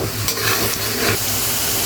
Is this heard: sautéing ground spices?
yes